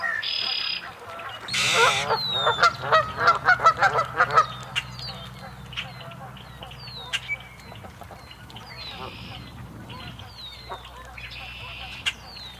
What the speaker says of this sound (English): We got geese everywhere this morning.